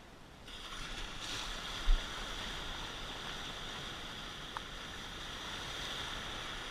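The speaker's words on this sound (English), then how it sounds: "I think when this one breaks, I'll ride it right into the beach." A wave breaking near the beach as a small sailboat rides it to shore, heard as a steady broadband wash of surf and wind with one brief low thump, no talking.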